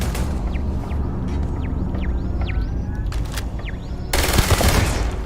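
An automated turret in Starfield rattles off rapid bursts of fire, with sharp mechanical shots and a louder burst near the end, over a steady background din.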